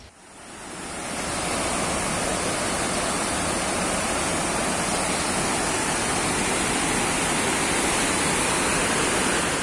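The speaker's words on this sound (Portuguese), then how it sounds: "então só nesse trecho tem 3 cachoeiras" Waterfall on a river stretch with several falls, a steady, loud broadband roar of rushing water that swells in over the first second and then holds constant, with no voices.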